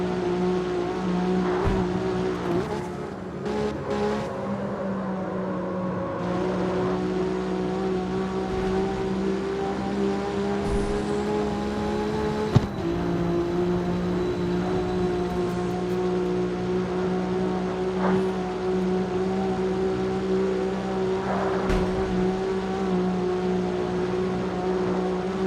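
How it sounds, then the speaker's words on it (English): A Porsche roars through a race in CarX Street, its engine droning in a sustained, loud tone with small shifts in pitch and one sharp click partway through. "This Porsche is very fast."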